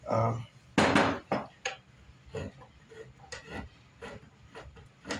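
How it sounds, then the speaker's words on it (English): A knife carves and scrapes epoxy squeeze-out from a wooden guitar neck in short, irregular close scratches and taps, with a voice heard briefly. "I'm almost using it like a whittling knife, and you can very, very quickly start creating that shape."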